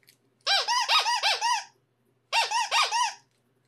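A squeaky plush dog toy, an R2-D2 design with crunchy legs, squeezed in two quick bursts of four or five sharp, high squeaks each, close and loud with a short pause between.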